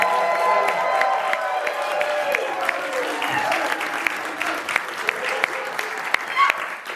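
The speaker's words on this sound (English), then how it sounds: "can you please give that man a round of applause?" A comedy club crowd at a stand-up competition final in Missoula bursts into dense, loud applause with cheers and whoops, sustained throughout, with a voice faintly mixed in.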